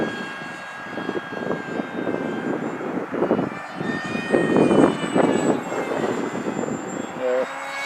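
The Mini Dragon RC model airplane flies loops, its engine a thin, rising-and-falling whine heard from a distance under outdoor wind, with people talking nearby.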